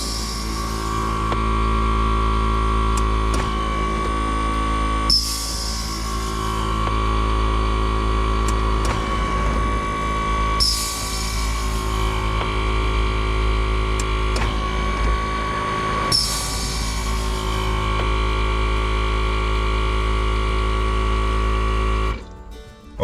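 Brake Buddy Select 2 supplemental braking unit, set up for flat towing a 2019 Jeep Cherokee Trailhawk, runs its bleed cycle: a steady mechanical hum with about four evenly spaced pump strokes, close and alone.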